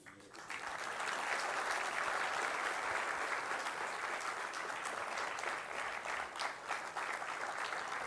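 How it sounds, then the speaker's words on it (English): A large audience at a talk on the war in Ukraine gives sustained applause, dense even clapping that holds steady for several seconds. "I think another huge round of applause is due"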